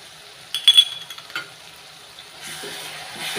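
Fried yogurt mixed with lemon juice and pickle gets stirred in a pan, with a few soft scraping clinks of the spoon against the metal and a quiet sizzle underneath.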